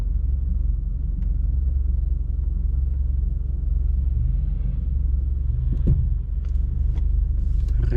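A Ford Ranger rally car runs on an icy sprint course, a steady low engine rumble heard from trackside with a few brief sharper knocks and clicks near the end.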